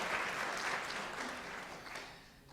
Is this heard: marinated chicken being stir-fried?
no